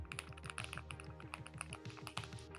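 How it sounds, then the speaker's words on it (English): Fast typing on a GravaStar Mercury K1 Lite keyboard, a quick close run of soft, creamy keystrokes with a few louder clacks, quiet and steady, with no voices. "Mercury K1 Lite sounds so good."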